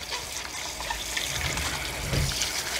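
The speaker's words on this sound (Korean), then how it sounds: "뽀드득 뽀드득 이렇게 상처 나지 않게 수세미로 하면은 얘가 상처가 나면은 물러지거든요" Cucumbers being scrubbed with a scrubber under running water, a steady splashing trickle with soft rubbing that swells slightly toward the end, close and fairly loud.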